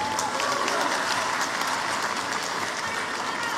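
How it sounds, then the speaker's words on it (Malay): Sustained applause from a large audience at a political party gathering of UMNO Sabah, steady dense clapping filling the whole stretch at even loudness with no pause. "Kita berikan tepukan kepada Datuk Seri Bong."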